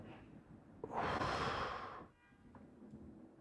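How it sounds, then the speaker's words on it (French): One deep, slow breath taken near the microphone during a calming breathing exercise, a soft airy whoosh lasting about a second, then quiet room sound. "Alors, on va faire une respiration."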